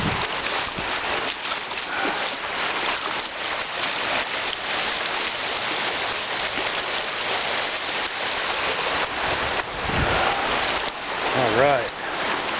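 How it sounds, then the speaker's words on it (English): Shallow river stream crossed barefoot on foot, continuous rushing and splashing water close by for the whole stretch, with a voice briefly heard near the end. "River crossings can be dangerous, but this one happens to be shallow enough right here where I can walk across."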